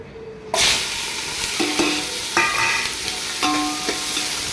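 Onion, curry leaves and green chilli drop into hot oil with a sudden loud sizzle and keep sautéing in a pan for a goat head curry. Metal spoon scrapes and clinks ring out several times over the hiss, with no talking.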